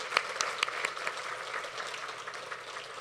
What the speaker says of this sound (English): I want all of you to give a big round of applause to her.